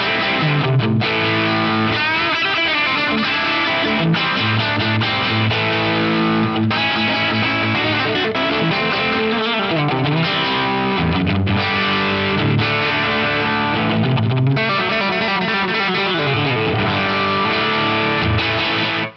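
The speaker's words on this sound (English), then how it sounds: "This one's set up for kind of like a driven slapback style thing." An electric guitar runs through an Eventide H90 Harmonizer set for a driven slapback sound, playing continuously with gritty distortion and a short, tight repeat on each note, loud and dense throughout with no talking.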